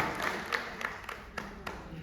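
Audience applause welcoming the start of a Hindi poetry recital in Abu Dhabi, a soft, distant wash of clapping with a few sharper individual claps standing out, fairly faint throughout.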